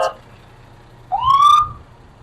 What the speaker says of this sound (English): Again, a Federal Q siren and air horns and a bell.